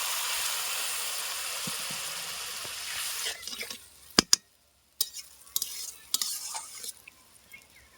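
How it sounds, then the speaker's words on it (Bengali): Hot water is poured into a pan of pumpkin and Gobindobhog rice cooking on the stove, first as a steady sizzling rush, then settling into a few sharp utensil clinks and stirring scrapes near the end, with no talking. "যে গরম জলটা করে রেখেছি ওই জলটা কিছুটা দিয়ে দিচ্ছি"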